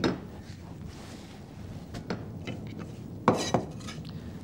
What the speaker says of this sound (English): we put the apple into a bowl.